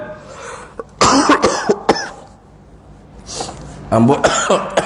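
A lecturer coughs repeatedly during a religious talk, a burst of harsh coughs followed by a pause and another cluster, close and loud with breathing between.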